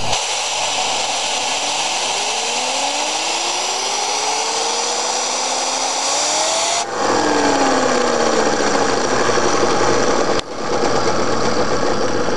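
A small Lego steam turbine generator spins up, its whine sweeping upward in pitch over a hissing steam rush, then jumps louder and keeps whirring close by with a brief dip near the end; no one speaks.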